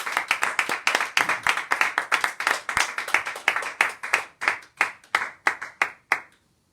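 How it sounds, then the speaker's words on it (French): A church congregation claps steadily in rhythmic unison for several seconds, the sharp claps thinning out and stopping near the end. "Acclamons la parole de Dieu."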